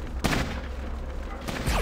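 Gunfire in the video game Fallout Tactics, two sharp bursts of shots about a second apart over a dense background of game noise.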